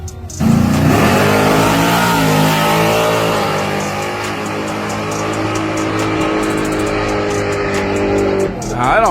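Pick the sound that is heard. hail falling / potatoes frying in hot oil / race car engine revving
race car engine revving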